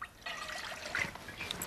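Water poured into a cooking pot for boiling rice, a steady trickling splash running throughout at moderate closeness, fairly soft.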